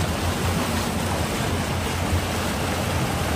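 Water falling and rushing through a small hydroelectric turbine setup, a loud, unbroken roar with a low rumbling churn, close by and without talk.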